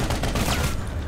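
Vehicle cannon fire in Planetside 2, a dense, loud burst of rapid booming shots packed tightly together across the whole second, close and unbroken, with no voices over it.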